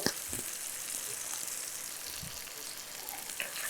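Sliced onions with salt sauté in oil in a pan for chicken pakoda varuval. The sizzle is steady and crackling, with occasional soft stirring knocks, heard close but fairly quiet and without talking.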